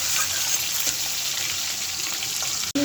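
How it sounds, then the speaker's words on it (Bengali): Eggs frying in a pan, a dense continuous hiss and crackle close by, steady and loud for a few seconds, ending in a brief sharp click. "ডিম ভাজিটা হয়ে যাচ্ছে, নামিয়ে নেব।"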